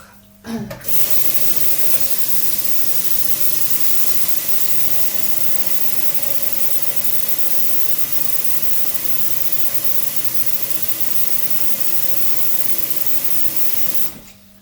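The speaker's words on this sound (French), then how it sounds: "j'ai rempli ma casserole à peu près plus que la moitié" Tap water pours steadily into a saucepan, filling it past halfway for cooking rice, a constant rushing flow lasting several seconds before cutting off.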